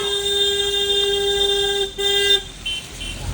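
A vehicle horn blares in one long steady honk, close and loud, then cuts briefly and gives a short second toot over faint road noise during a motorcycle ride.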